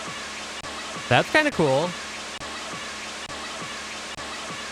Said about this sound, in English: It's super staticky.